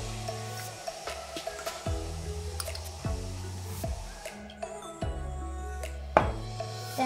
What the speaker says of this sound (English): Then add 2 spoons lemon juice.